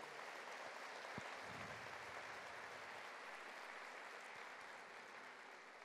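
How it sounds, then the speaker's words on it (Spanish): A church congregation applauds during a Spanish-language sermon, a steady, continuous wash of many hands clapping at moderate distance, holding evenly for several seconds with no voice over it. "¿Cuánto le da un aplauso por esos amigos espirituales?"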